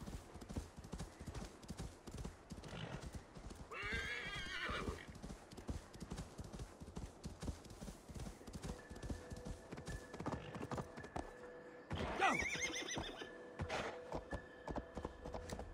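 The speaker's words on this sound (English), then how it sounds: "Let's call my horse." A horse gallops with a quick, steady clip-clop of hooves in the video game Assassin's Creed Valhalla, breaking into a loud whinny early on and again later, with no talk over it.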